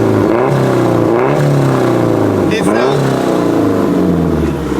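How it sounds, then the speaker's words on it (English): A budget turbocharged Nissan Serena van revs hard on a dyno, its engine loud and rising and falling through several throttle blips, with people talking over it. "Give it a little rev up. Rev for the boys."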